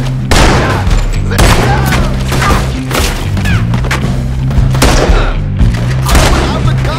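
Gunfire in Red Dead Redemption 2 cracks and booms in repeated heavy shots and bursts during a shootout, loud and close, with characters talking over the firing.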